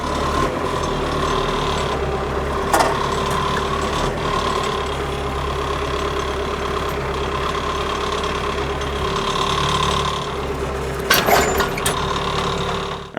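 A Massey Ferguson tractor engine runs steadily at a low idle-like rumble while pulling a hydraulic loader cylinder loose, a continuous loud drone with a few faint knocks and clanks rising briefly above it.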